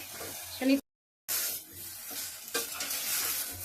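Ridge gourd and potato with spices sizzle and hiss in a pan as they are stirred and sautéed, broken by a brief gap of silence before the frying noise resumes steadily.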